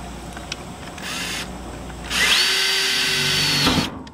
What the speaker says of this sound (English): I'm gonna take this drill and drill a hole right through the middle of that X.